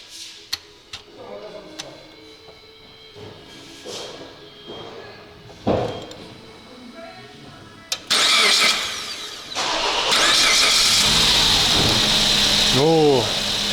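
Scattered clicks and a few sharp thumps, then a Suzuki Grand Vitara engine with lost compression fires up and keeps running loudly, with a couple of quick revs near the end.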